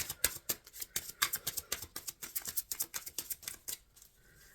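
Tarot cards are shuffled by hand in a quick series of crisp, close riffling snaps with an irregular rhythm that fades near the end, with no talking.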